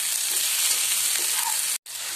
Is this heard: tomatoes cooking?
yes